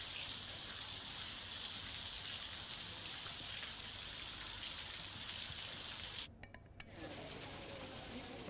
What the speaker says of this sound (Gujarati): ધારીશ્વર, છતડિયા સહિતના આસપાસના ગામોમાં વરસાદ થયો